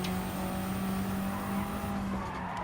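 A race car in Gran Turismo 7 holds a steady, loud engine drone under acceleration with a faint tire whine, then the sound thins out near the end. No one talks.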